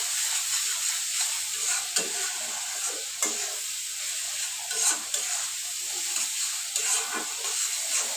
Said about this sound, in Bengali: তো আমি এটাকে ভালো করে ভেজে নিয়ে আমি চিংড়ি মাছটা দিয়ে দিব।